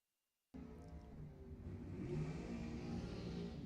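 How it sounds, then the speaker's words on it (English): At a drag strip, a dragster and a Porsche launch and race side by side, their engines cutting in suddenly and building into a loud, sustained revving roar as they accelerate away. "Next, we're going to have Zach Rothenberger in the dragster chasing Dan Galinas in the Porsche"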